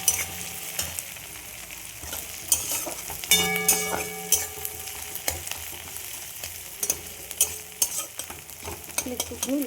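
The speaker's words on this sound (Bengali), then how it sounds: "একটুখানি লাল করে ভেজে নেব।" Green chilli and ginger fry in a hot pan, crackling and sizzling loudly as a spatula stirs and scrapes the metal in repeated strokes close by, with no voices.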